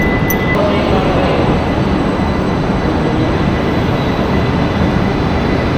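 A Shinkansen bullet train rumbles steadily as it pulls away from a Japanese station, a loud continuous low roar with faint high tones above, heard from nearby.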